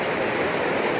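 Steady, loud rush of water pouring down a natural rock water slide in Baxter State Park, Maine, a constant close-up roar with no pauses or voices.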